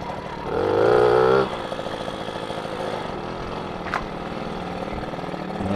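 A restored Tomos A3ML moped runs steadily while being ridden, its small two-stroke engine swelling into a louder rev near the start before settling into a constant drone, with a brief click midway.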